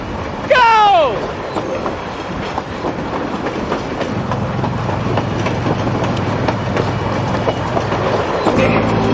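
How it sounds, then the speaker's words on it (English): A speeding train rolls along its rails with a steady, loud rumble and rattle throughout, a brief screeching whistle-like sweep near the start, and indistinct voices mixed in under the clatter. "we just jumped onto a speeding train"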